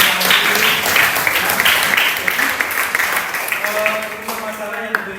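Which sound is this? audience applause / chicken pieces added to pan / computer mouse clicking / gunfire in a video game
audience applause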